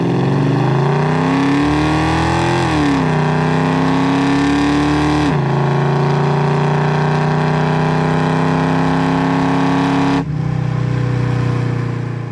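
A 1970 Chevrolet Chevelle with a 396 big block V8 and automatic transmission accelerates hard, its loud engine note rising and climbing through gear changes with shifts near three, five and ten seconds, close and alone without talk.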